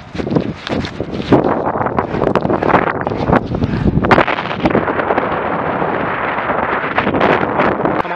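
Heavy wind buffets the microphone while cycling on a long-distance audax ride near the A1 by Sandy, a loud, roaring, gusting rush that swells and dips continuously.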